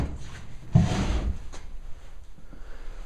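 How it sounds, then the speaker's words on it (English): A drawer in a house is pulled open or pushed shut with one firm wooden thud and scrape, followed by quieter faint knocks, close by with no talk. "I've looked in all the drawers. There's nothing in there. Same thing with these. Nothing in these drawers."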